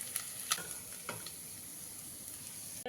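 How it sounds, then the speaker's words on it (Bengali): Parshe fish frying in oil in a pan, a soft steady sizzle with a few light clinks of a spatula against the pan, quiet and close, with no voices. "এইভাবে বাকি মাছগুলো আমি ভেজে নেব এই মাছগুলো ভাজা হয়ে গেছে"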